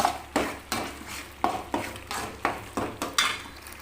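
A spoon scrapes and clacks through thick tamarind rice paste cooking in a pan, about ten distinct close strokes in a steady rhythm over a soft simmering hiss, with no talking.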